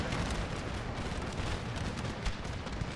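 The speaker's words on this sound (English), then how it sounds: "I started hitting this one with cannon shot" Cannon fire during a naval battle in the video game Empire: Total War, a dense barrage of booming shots and rumbling blasts overlapping into a continuous low roar, moderately loud.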